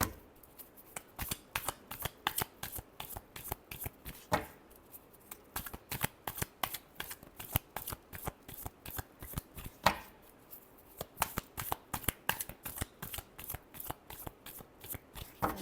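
Tarot cards being shuffled by hand, a close run of crisp rapid riffling flicks in repeated bursts with short pauses between, no talking.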